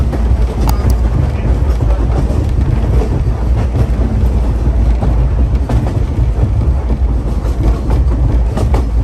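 Train rolling along the rails, loud and close, with a rumbling drone, rhythmic clicks and rattles from the wheels, and buffeting wind noise on the microphone.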